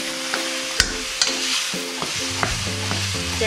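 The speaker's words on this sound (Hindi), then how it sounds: "चलाते रहेंगे कस्टी की मदद से" A spatula scrapes and stirs finely mashed arvi (taro) leaf saag in a pan: a quick series of sharp scraping strokes with soft sizzling between them, close and clear, with no talking.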